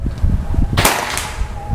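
A Predator OD 38 air rifle fires a single sharp, loud crack partway through, with a brief tail ringing after it over a low background rumble.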